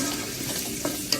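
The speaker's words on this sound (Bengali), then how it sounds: "পেঁয়াজটা হালকা একটু ভেজে নেব।" Onions frying in the leftover oil from cooking chicken for chicken biryani, a steady close sizzle with light stirring scrapes throughout, no talking.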